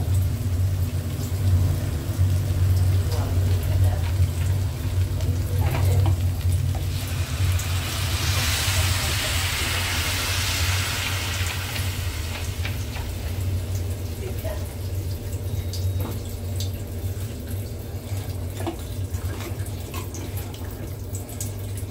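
Water poured into a hot pan of sizzling ginger gives a broad hissing, bubbling burst that swells in the middle and then settles into a steady simmer over low kitchen hum.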